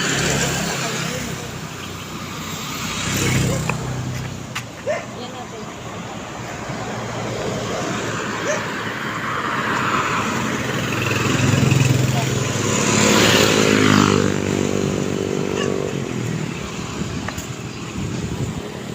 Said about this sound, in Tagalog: Daming sasakyan dito.